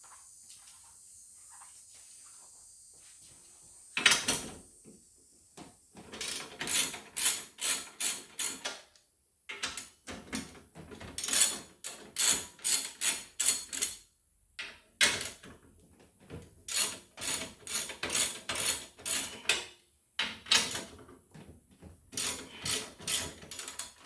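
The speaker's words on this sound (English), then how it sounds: "let's start by taking these 4 screws out that are holding the seat on. They're 1/2 inch." Half-inch screws come out of a Z920m mower seat under a ratchet, producing rapid bursts of close, crisp clicking in repeated runs with short pauses between sets.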